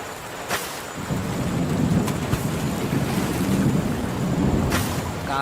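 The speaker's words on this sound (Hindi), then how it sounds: "बहुत तेज बारिश हो रही है।" Heavy rain pours steadily in a thunderstorm over a village pond, a dense hiss with thunder rumbling low and continuously underneath, sometimes sharper cracks, and no voices.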